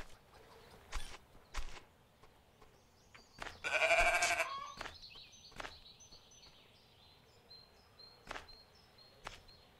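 Goats bleating in the farming video game Farmers Life: a loud wavering bleat in the middle among sparse clicks and thumps, with quieter animal cries and faint whistling tones drifting behind.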